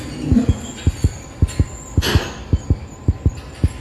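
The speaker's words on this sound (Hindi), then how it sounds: "जल्दी चल, क्योंकि दिल धड़कना शुरू हो गया है।" A heartbeat in the horror video game Granny Chapter 3 thumps in a steady, fairly quick double-beat rhythm, loud and close, with a faint hum and a brief whooshing noise partway through.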